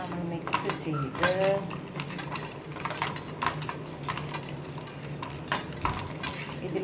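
Cumin being stirred and mixed into a dish, likely in a bowl for an air fryer, giving repeated clinks and scrapes of a utensil against the container at close range over a steady background hum.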